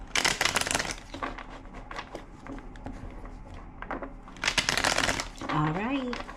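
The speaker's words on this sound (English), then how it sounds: "2 more shuffles." Rapid riffling bursts of cards being shuffled, two fast riffles separated by softer handling noises, close and crisp, with a brief murmur of voice at the end.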